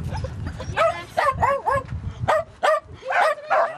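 Dogs bark and yelp excitedly at a dog triathlon training club in the north of England, a loud close run of sharp, uneven barks with short gaps and a few whimpering yips.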